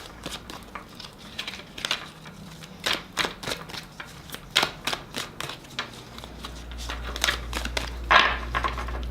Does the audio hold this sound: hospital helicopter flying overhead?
no